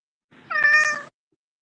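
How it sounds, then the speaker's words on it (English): A single close, clear cat meow, rising and falling over about half a second, recorded indoors with no voices over it. "You hear the kitty?"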